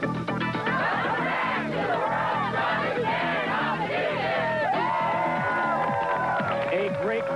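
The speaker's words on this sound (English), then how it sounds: "A great crowd has turned out for our 8th of 12 events" Spectators at a 1997 strongman competition cheer and clap, a lively mix of applause, shouts and whoops with a voice talking over the crowd.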